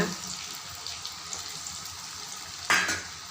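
Rathasaali rice pakoda fries in hot oil with a steady bubbling hiss. A brief louder splash-like burst comes near the end, and no one speaks.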